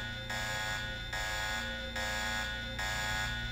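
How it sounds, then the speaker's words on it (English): An electronic alarm sounds in the Deus Ex video game, a loud buzzing tone repeating in regular pulses of just under a second each, steady and continuous with no talking. "Oh, that's just an alarm."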